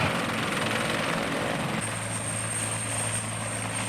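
Military medevac helicopters in Afghanistan running during a hot refuel, a loud steady rotor and turbine roar with a high whine, constant and close, with no talk.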